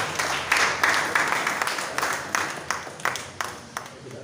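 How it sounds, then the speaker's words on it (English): Applause from an audience at a stakeholders meeting, a short burst of scattered clapping that rises quickly and then tapers off, heard at moderate distance in a reverberant hall. "make una clap for una sef"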